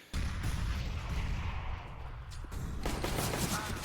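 Rapid gunfire bursts from a Counter-Strike pro match between Virtus.pro and Spirit, dense sustained rifle spray with sharp repeated cracks, loud and continuous across the stretch.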